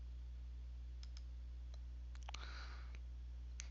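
Faint computer mouse clicks sound while a button is pressed in LibreOffice, a few sharp single clicks spread over a few seconds above a low steady hum.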